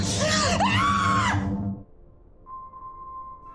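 A woman screams loudly and shrilly for over a second with wavering pitch, then cuts off into quiet, followed by a faint steady tone.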